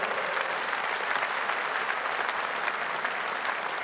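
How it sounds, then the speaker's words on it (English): A crowd at a Reform UK political event gives steady, dense applause, loud and continuous throughout with no break or fade. "Give Richard a round of applause."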